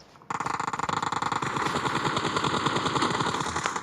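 An M4 rifle fires in a video game as rapid automatic gunfire, a loud, fast burst of evenly spaced shots that then merges into a dense, continuous rattle.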